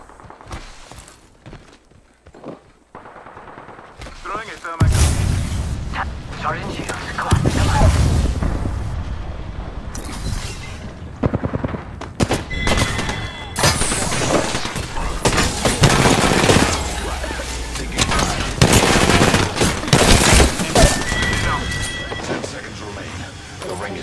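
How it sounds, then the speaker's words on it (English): Rapid bursts of automatic gunfire and single shots crack through a video game shootout, starting after a quiet opening and staying loud and dense, with footsteps and a player talking over the fighting. "They're shooting at me."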